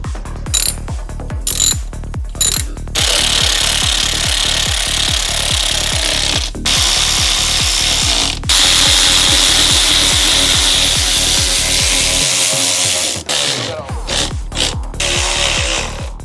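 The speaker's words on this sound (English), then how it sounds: "Now we gotta put these bolts in." Bolts being driven in with a ratchet while installing aftermarket parts on a BMW, a rapid continuous run of close mechanical clicking, briefly pausing and resuming.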